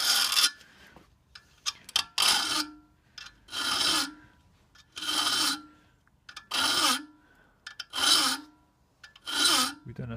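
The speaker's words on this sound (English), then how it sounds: "Now we kind of do the teeth and try and sharpen the teeth. So we get the round file" A round file sharpens the teeth of an ice axe in a series of seven or so rhythmic rasping strokes, each a harsh scrape lasting about half a second, close and clear with small clinks between.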